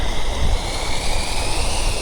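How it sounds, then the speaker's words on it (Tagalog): Wind blows hard across a high hillside near a small waterfall, producing a steady, loud broadband roar with no voices. "Ang hangin na. Mahangin pala rito sa taas guys."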